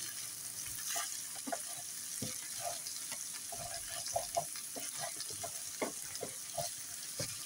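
An omelette mixture seasoned with salt and pepper is stirred in a hot pan, with steady sizzling and frying under repeated soft scraping and tapping strokes of the utensil, close and continuous.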